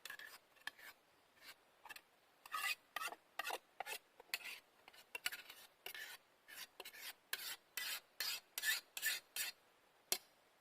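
Minced beef, onion and mashed potatoes being mixed together in a pot at a riverside wild camp, heard as a quick series of rhythmic scraping and squelching strokes, quiet and close, with no talk.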